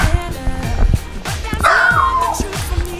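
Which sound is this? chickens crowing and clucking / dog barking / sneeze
dog barking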